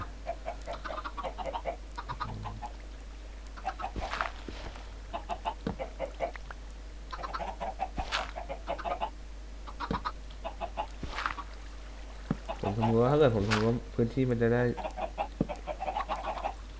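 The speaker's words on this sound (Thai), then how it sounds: "ไก่" Minecraft chickens cluck in short, separate bursts spread across the clip, with someone speaking in between and a louder vocal stretch near the end.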